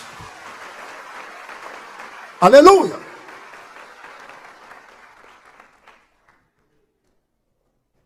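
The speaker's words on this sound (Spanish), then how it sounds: "Dele ese aplauso de gloria a Dios." A church congregation breaks into a short, loud burst of applause that quickly fades, while a preacher's voice carries on over it before and after.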